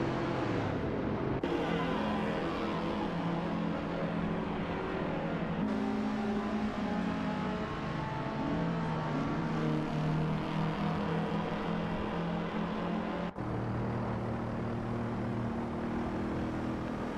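Video game race cars in an AI race, several engines droning steadily with shifting pitch as they rev and change gears, a continuous close engine roar throughout with no talk.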